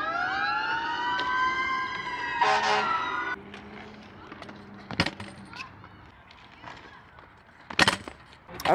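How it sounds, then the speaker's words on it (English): Two fire trucks pass with wailing sirens rising and falling loudly over traffic noise, the sirens cutting off after a few seconds and leaving road rumble with sharp horn blasts and clunks. "There's two fire trucks."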